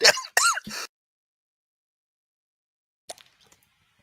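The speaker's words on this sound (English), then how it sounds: "I triggered my coughing." Three quick, harsh bursts close to the mic, like rough coughs or throat clearing, then silence and a few faint clicks.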